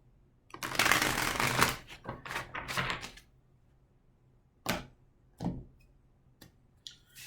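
Tarot cards being shuffled and handled, a dense riffling burst at first followed by several separate soft card slaps and flicks, close and clear with no talking.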